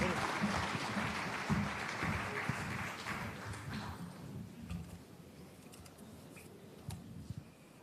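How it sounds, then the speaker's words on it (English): Applause rises from the audience at a political development forum and fades over several seconds into scattered claps and room murmur, fairly faint and distant. "Please give him a round of applause"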